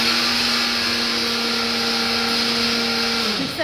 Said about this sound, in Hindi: मिक्सर का आवाज आ रहा है,